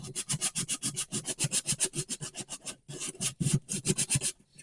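Rapid rhythmic strokes of hand sanding the edge of a plastic Xbox 360 hard drive case, a rasping back-and-forth scrape repeated many times close up, with a brief pause midway.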